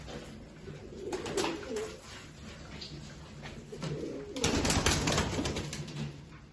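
Pigeons of an old line kept for sale coo and call in a loft, with a burst of wing flapping and rustling partway through, close and moderately loud against a steady background hum.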